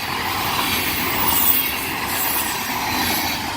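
CSX freight train Q452 rolling past on the Miami subdivision near Lake Worth Road, Florida, a steady broadband rumble of rail cars with faint wheel hiss, continuous and fairly close, no talking.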